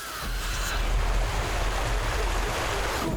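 River water in a cartoon flows with a steady, broad rushing wash, continuous and fairly close, with no voices over it.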